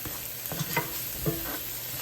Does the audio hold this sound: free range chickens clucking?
no